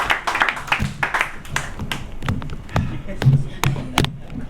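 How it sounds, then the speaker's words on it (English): Scattered clapping from a small audience at a poetry open mic as a poet takes the stage, uneven individual claps near and far, with voices talking underneath. "Everybody give a nice warm welcome and a round of applause for my brother, Mike, the real deal Mills."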